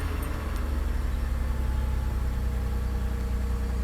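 A 2001 Honda Odyssey engine idling with a newly installed short ram intake, a low, steady hum that runs evenly throughout at close range with no voices.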